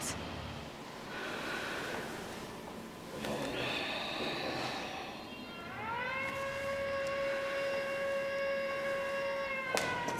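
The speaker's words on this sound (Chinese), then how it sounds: "没有听说要防控演习吗？ 怎么会拉警报呢？" An air raid warning siren in a period spy drama: after a stretch of breathy, muffled background noise, a loud wail rises in pitch and holds a steady, sustained tone.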